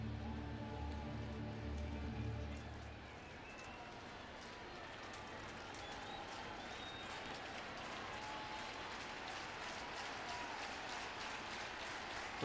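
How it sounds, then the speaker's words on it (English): Baseball crowd at Busch Stadium during a Rays at Cardinals game, a broad, steady roar of cheering and clapping that swells briefly and then holds as a sustained wash of noise. "Crowd comes alive here at Busch Stadium"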